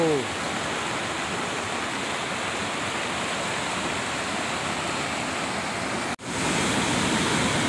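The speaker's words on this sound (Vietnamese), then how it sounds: "suối to như thế này ở mùa nước này" A large mountain stream in flood during the rainy season, its broad, steady rush of water filling the scene loud and close throughout, with a brief dip near the end.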